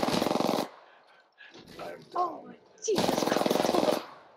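Rapid automatic gunfire in the battle royale game Apex Legends, heard as two loud sustained bursts at the start and end, with excited voices talking in between.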